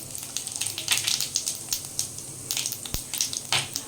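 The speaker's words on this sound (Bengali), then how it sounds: "তেলের মধ্যে দিয়ে দিচ্ছি দুটো তেজপাতা, আর দিয়ে দিচ্ছি গোটা জিরে আর গোটা গরম মশলা" Two bay leaves, whole cumin and whole garam masala hit hot oil left from frying potatoes for a jackfruit kofta curry, giving a close, steady sizzle with quick crackling pops and one sharp snap.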